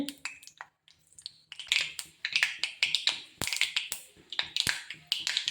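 Mustard seeds splutter in hot coconut oil as a tempering, with a dense run of sharp, close pops and crackles, some in quick clusters and a few louder cracks, continuing steadily throughout.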